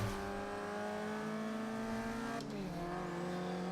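A Mazda MX5 engine in the video game Forza Horizon 2 revs hard as the car accelerates uphill from a standing start, its steady rising drone briefly dipping at a gear change before climbing again.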